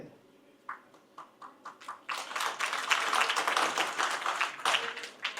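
An indoor audience gives a few scattered claps at first, then breaks into sustained clapping from many hands that holds steady and fades slightly near the end, with no talking over it.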